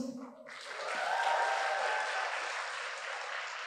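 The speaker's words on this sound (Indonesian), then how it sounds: "tepuk tangan dulu di sini yang anak unhas." Applause from university students in a stand-up comedy audience, starting after a brief pause and swelling into a steady, dense wash of clapping that holds to the end.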